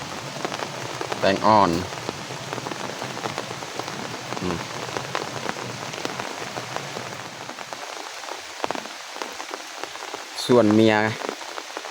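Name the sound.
rain falling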